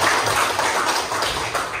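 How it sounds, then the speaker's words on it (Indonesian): Classroom students break into a short burst of loud, dense clapping. "Oke, tepuk tangan"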